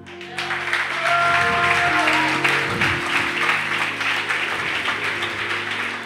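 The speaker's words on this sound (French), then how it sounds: "Tu peux acclamer." Applause and cheering from a congregation at a church service, a sustained wash of clapping lasting several seconds, with musical tones and crowd noise mixed in.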